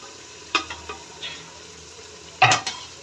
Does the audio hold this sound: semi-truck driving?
no